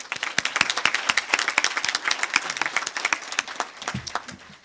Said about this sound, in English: Let's get another round of applause for the contest committee.